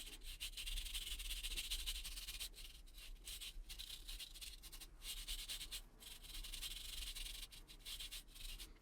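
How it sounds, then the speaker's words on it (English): NES console parts are scrubbed with contact cleaner, producing a quiet, steady brushing rub that keeps up without a break over a low background hum. "I guess it's just getting some contact cleaner in there and scrubbing it down"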